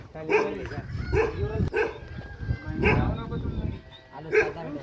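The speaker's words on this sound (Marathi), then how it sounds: "हे बघा कुत्रं भुकलं चालू आहे" A dog barks near a village well on a rainy day. Several loud, close barks come in quick bursts with short gaps between them.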